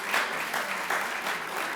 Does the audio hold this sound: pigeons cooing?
no